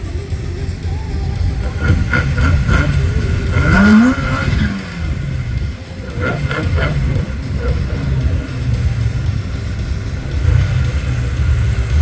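Race cars accelerating at a drag event, a front-wheel-drive Golf against a four-wheel-drive Audi S1, loud engines revving and roaring past with a rising whine, crowd noise and voices mixed in throughout.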